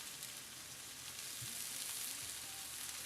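Food cooking in a single layer on a hot griddle gives a soft, continuous sizzling hiss, quiet and even throughout with no talking.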